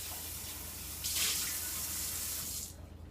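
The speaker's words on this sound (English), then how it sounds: "I'm going to rinse this out." Tap water runs steadily into a container being rinsed out during apple cider vinegar making, a soft close hiss that swells briefly as the stream hits the vessel, then cuts off near the end.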